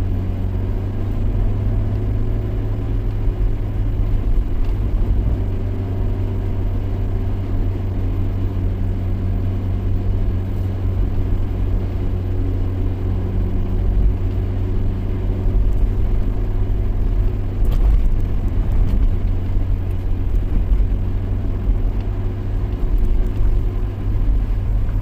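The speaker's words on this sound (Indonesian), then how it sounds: "Lumayan padat ya kendaraan di jalan lintas tengah Sumatera ini" Busy vehicle traffic on the central Trans-Sumatra highway in the early afternoon makes a loud, continuous low engine rumble and whir that holds steady throughout, with no one speaking.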